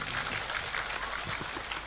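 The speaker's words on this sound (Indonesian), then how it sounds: "Tepuk tangan untuk Mak Arif." Applause from an audience at a lively pesantren gathering, a short burst of dense, even clapping that fills the moment without any voices over it.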